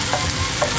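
Garlic and onion sizzle in a wok as they are stirred, with a short burst of frying and two soft scraping strokes close by.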